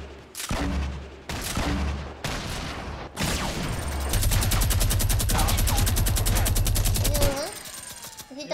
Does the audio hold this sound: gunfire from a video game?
yes